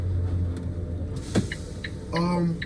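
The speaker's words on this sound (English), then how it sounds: "as I accelerate, you don't hear anything, just a little bit of gear whine" An electric Thomas C-2 Jouley school bus pulls away almost silently, with a low drive hum and a faint rising gear whine plus a few light clicks inside the cabin.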